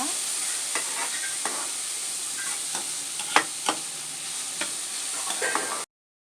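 Garlic fried rice stir-fries in a pan with a steady hiss, punctuated by sharp spatula scrapes and clacks, close by, then stops abruptly.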